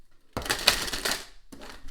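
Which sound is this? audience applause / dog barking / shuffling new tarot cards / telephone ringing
shuffling new tarot cards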